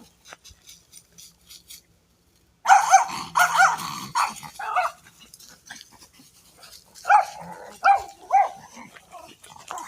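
A dog growls and barks close by in a run of short, rough bursts after a few quiet seconds. Fainter barking trails off, then a fresh cluster of barks follows near the end.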